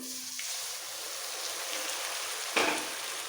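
Mutton stock poured into fried onions in a pan while cooking mutton kosa, giving a steady hissing sizzle with a sharp crackle near the end, close by and alone.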